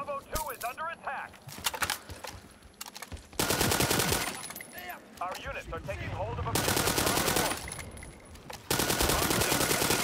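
Bursts of automatic gunfire in the World War 3 video game punch through walls, long sustained volleys alternating with shorter gaps filled by game effects and voices under the shooting.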